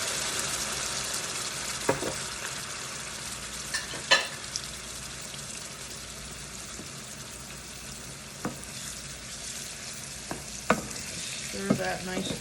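Large apples frying in a pan as they are stirred, a steady broadband sizzle running throughout with scattered sharp clicks and scrapes of the utensil against the pan, no voices.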